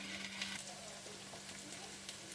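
Grated carrots for gajar halwa fry in a pan of ghee and butter, a soft, steady sizzle with faint crackles and occasional stirring, quiet and close.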